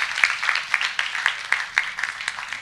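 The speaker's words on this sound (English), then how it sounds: "Another round of applause." A small audience at a head girl conference gives a round of applause, a thin scatter of distinct hand claps in a loose, uneven rhythm, fairly close.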